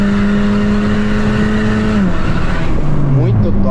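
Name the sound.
Honda Civic engine roaring through exhaust diffuser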